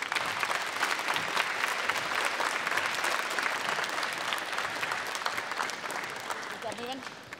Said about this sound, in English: could you please just give us a quick round of applause for those parents?